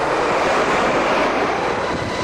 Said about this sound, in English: Flying ahead of the convoy, looking for Iraqi positions, were heavily armed Apache attack helicopters.